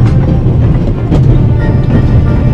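A moving passenger train in The Raven: a loud, steady low rumble with faint rhythmic rattles and clicks from the carriage, continuous from start to finish.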